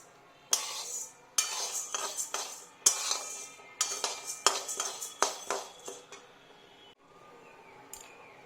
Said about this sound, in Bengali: কলাই ডালটা প্রথমে কড়াইতে একটু নাড়িয়ে নিয়েছি।